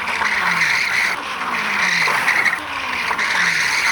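E-bike tires on cheap brakes skid under hard braking, giving several loud, close squealing skids in a row over steady background noise.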